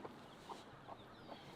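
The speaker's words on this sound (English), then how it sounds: "And yes, we have a variety of roosters." Chickens and roosters cluck in short, repeated bursts over a steady background on a farm that also raises sheep, with a faint higher call drawn out near the end.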